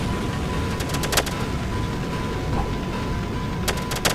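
Gunfire from the video game No Time to Explain comes as two quick bursts of rapid cracks, one early and one near the end, over a constant droning game background.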